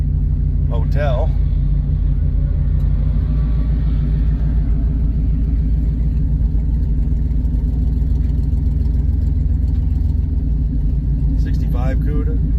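Chevrolet Corvette engine rumbling on the Hot Rod Power Tour, a deep, loud, continuous burble with other traffic around and people talking over it.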